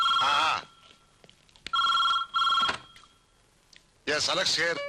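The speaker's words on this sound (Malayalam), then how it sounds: "സാറേ ഫോൺ." A telephone rings loudly and close by in repeated bursts with short pauses between them, and a voice comes in after the last ring.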